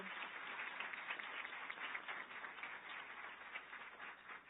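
A round of applause from the audience at a nursing school commencement ceremony, steady and sustained throughout, heard from a distance with a muffled, band-limited quality.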